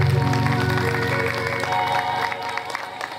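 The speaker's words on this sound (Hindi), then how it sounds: "ताली बजाओ" An audience at a Ramcharitmanas singing and discourse gathering in Kawardha, Chhattisgarh, claps hands together in a dense, steady wash of applause, mixed with crowd murmur and music.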